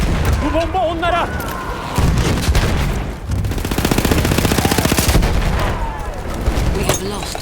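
Battlefield 1 combat on the Oil of Empires operation, with bombs dropped from a bomber amid dense gunfire and machine-gun bursts. Loud, sustained booms and rattling volleys run throughout, and voices speak over the battle noise at moments.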